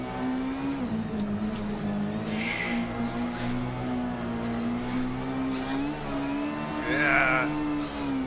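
An R2 rally car on a recce hotlap, its engine droning steadily with rising and falling revs and brief tire squeals, close and loud throughout, no talk.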